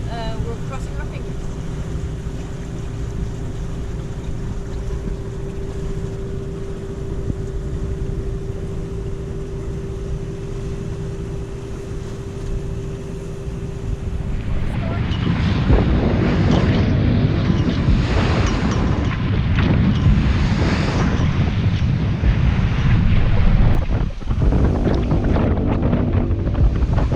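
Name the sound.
sailboat engine running at sea with wind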